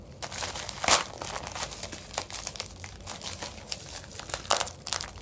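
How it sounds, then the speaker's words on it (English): Product packaging torn open by hand while unboxing old Athlon XP CPUs: continuous close crinkling and crumpling of plastic with sharp tearing bursts, loudest near the start and again toward the end. "I'm just going to brute force this one. Who needs cutting tools? More packaging!"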